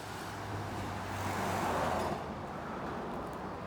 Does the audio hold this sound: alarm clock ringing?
no